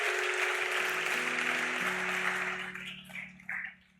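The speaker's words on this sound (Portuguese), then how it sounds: "Aplauda o Senhor" A church congregation applauds the Lord during a sermon, steady mid-level clapping over sustained keyboard chords that fades and thins into a few scattered claps before ending.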